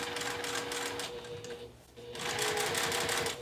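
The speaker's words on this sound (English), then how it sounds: "I'm just top stitching 1/8 of an inch away all the way down this base." A sewing machine topstitching a fabric basket base seam one-eighth inch from the edge, a steady close whirring hum that pauses briefly midway, then resumes at full speed.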